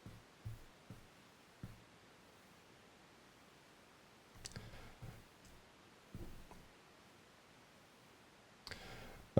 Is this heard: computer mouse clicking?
yes